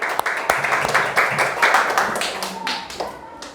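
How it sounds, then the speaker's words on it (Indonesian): Classmates in a school classroom applaud a group that has just finished presenting, with a burst of mixed clapping that swells and then thins out into a few scattered claps over about three and a half seconds. "kita beri tepuk tangan untuk teman-temannya ya"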